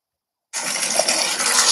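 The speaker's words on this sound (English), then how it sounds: "They're filling it up with water." Water pours into a gorge, a rush of gushing flow that starts abruptly and then continues steadily and loudly with no talk.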